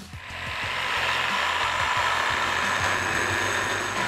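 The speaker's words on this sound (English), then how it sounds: "We're gonna start the vacuum up and go ahead and drill one." A drill bores a hole into a concrete countertop while a vacuum runs, producing a loud steady whirring roar with rhythmic mechanical rattling underneath, close and continuous.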